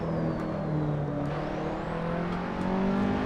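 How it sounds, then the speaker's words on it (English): A race car engine in Assetto Corsa whirs and drones while a rising-then-falling turbo whine winds down, steady and fairly close, with no voices. "I'm hearing a little bit of turbo wind down."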